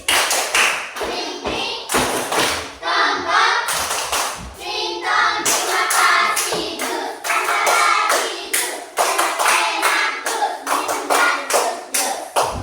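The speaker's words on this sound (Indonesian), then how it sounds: "Tepuk terima kasih." Rhythmic group clapping of thanks during a Christmas-themed children's lesson, loud and close, with sharp repeated bursts in a patterned beat over about twelve seconds.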